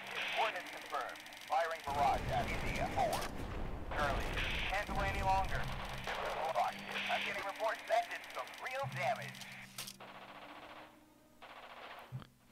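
Artillery barrage in the game Radio General, heard as distant, radio-filtered rumbling blasts and crackling gunfire beneath a voice speaking over the radio, with a lull near the end.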